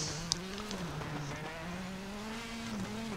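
Rally car engine in the WRC 7 video game, a steady, sustained drone with slight pitch rises and dips as the car accelerates, a brief click near the start.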